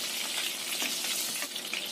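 Chili peppers frying in hot oil give a steady, dense sizzle and crackle that stays close and loud for the whole stretch, with no voices over it.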